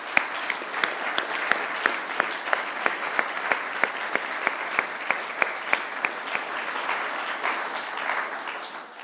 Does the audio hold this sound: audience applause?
yes